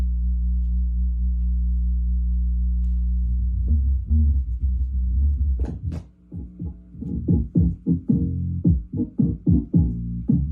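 Bass band output from a prototype frequency separator circuit: a steady low hum for several seconds, then a series of rhythmic low thumping pulses with short gaps between them, fairly loud and with no voices.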